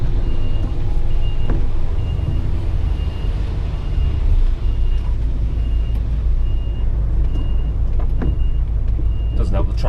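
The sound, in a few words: HGV truck reversing with reversing beeps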